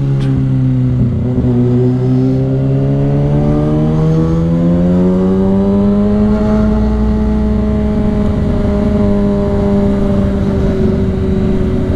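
A 600cc sport motorcycle engine revs loudly and close by, its pitch climbing smoothly over several seconds and then holding at a sustained high whine with no talk over it.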